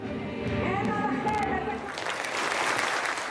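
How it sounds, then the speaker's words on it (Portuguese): Standing applause fills the Israeli parliament chamber, dense clapping from many lawmakers that swells in the second half, with a voice speaking over the first part. "os congressistas receberam Trump com aplausos de pé"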